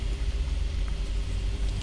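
A 2020 Ram ProMaster van with a replaced transmission idles steadily, a low, even engine rumble heard from inside the cab, constant and unbroken.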